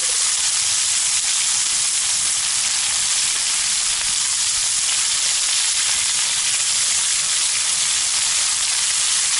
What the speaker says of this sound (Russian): Да, давай, закидываем лучок.